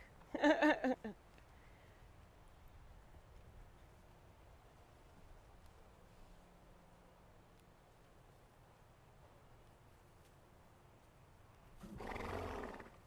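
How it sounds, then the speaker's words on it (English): A horse blows out in relaxed snorts: one loud breathy burst at the start, quiet background through the middle, and a second, softer blowing breath near the end. "I always notice when the horse starts blowing like that"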